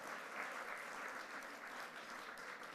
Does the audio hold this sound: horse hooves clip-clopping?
no